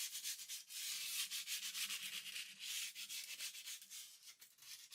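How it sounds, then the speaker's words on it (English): Folded sandpaper rubbed by hand over the carved details of a wooden French Provincial dresser, giving a steady, close, hissing scrape in short back-and-forth strokes with no voices. "I folded the sanding paper in half, and then I went into the details to give that a sanding"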